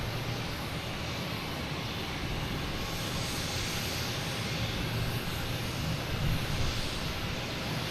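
A jet airplane roars steadily at Boston Logan Airport, a broad, unbroken engine rumble and hiss that stays loud throughout.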